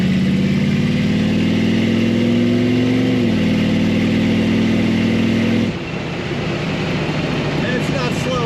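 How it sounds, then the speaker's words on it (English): A 1930 Ford Model A 5-window coupe street rod with an automatic transmission rumbles through side exhaust pipes, its engine revving steadily, dropping off near the end, loud and close. "Those pipes coming out the side sound great."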